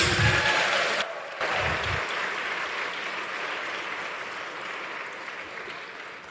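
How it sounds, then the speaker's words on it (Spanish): Church congregation at a Spanish-language evangelical service applauds in a broad, steady wash of clapping, moderately distant, after a brief spoken cue at the start. "¿Alguien le puede dar un aplauso al Señor esta tarde?"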